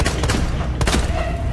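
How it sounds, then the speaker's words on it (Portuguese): Rapid gunfire in Resident Evil 2 Remake, a dense, loud burst of overlapping shots and booms lasting the whole short stretch. "Dá uns tiros nele,"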